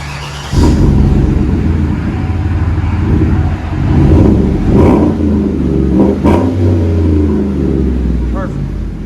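A Chevy Silverado with a 5.3L V8 and aftermarket exhaust revs from inside the cab: a loud, deep rumble that swells in several throttle blips over a steady idle.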